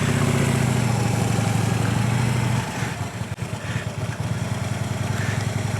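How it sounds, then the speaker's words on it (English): A motorcycle engine runs steadily nearby, loud with a strong low harmonic hum at first, then drops after a few seconds into a rougher, lumpier idle as the bike comes to a stop during slow-speed cone drills. "We stopped the bike."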